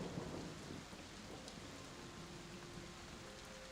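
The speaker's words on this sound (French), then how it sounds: "Tu ne captes rien à part le son de l'orage qui éclate au loin." Thunderstorm ambience plays during a tabletop role-playing session: steady rain hisses throughout while distant thunder rumbles low and continuous underneath.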